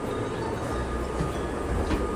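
Steady rumbling of a train in motion in Japan on a rainy day, a constant rolling drone with faint rattles, heard from inside a carriage with no talking.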